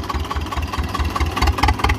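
A 1972 T-25 tractor engine idles close by with a steady, rapid low chugging throb, loud and continuous without talk.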